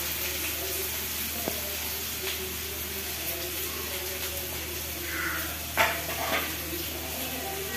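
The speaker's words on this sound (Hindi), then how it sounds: "प्याज को डालने के बाद हल्का सा इसको स्पून से चला कर इसको भूनना है" Chopped onion with cumin and green chilli frying in oil in a pan, gently stirred with a spoon while cooking chow mein, a soft steady sizzle with occasional light scrapes and clinks of the spoon.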